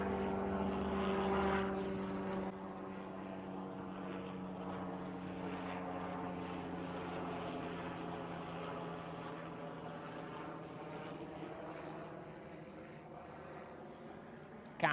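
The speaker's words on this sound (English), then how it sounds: "Whoa, that's a big chopper." A big helicopter passing overhead above the Derbyshire Dales, a loud continuous rotor and engine roar that peaks early and then slowly fades as it moves away, with no talk.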